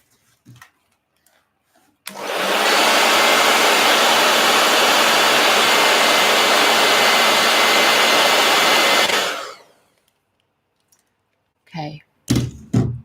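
A heat gun roars with a loud, steady blast of hot air for about seven seconds while someone colors, switched on abruptly and then off. Scattered knocks and handling noises come before and after.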